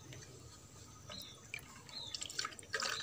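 Thai herbal liquid made from green chiretta is poured into a plastic bottle, with soft drips and trickles building to a brighter, louder stream near the end, close and alone.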